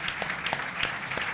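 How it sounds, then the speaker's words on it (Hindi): A church congregation at a resurrection service claps loudly in a steady, fast rhythm, a dense burst of hand claps close by with no voices over it. "जोरदार ताली बजा के प्रभु को महिमा दे।"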